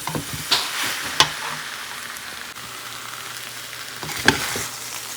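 Potatoes and masala are sautéed in a frying pan with a soft, steady sizzle and a few sharp spatula scrapes against the pan.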